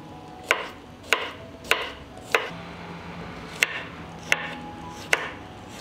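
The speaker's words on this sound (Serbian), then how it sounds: "Dok se paprika prži, iseckat ću 2 glavice belog luka." Two heads of garlic are chopped with a knife on a board in seven sharp, evenly spaced knocks, close and clear over a quiet kitchen background.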